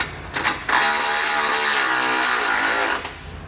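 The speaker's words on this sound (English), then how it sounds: "we're going to begin tightening up the bolts to our base plate, starting with that top one using a 16mm socket" A ratchet driving a 16mm socket tightens the top bolt of a Demco Tabless base plate kit on a 2022 Jeep Wrangler. It makes a loud, close, continuous mechanical whir of about two and a half seconds, after a few brief starts.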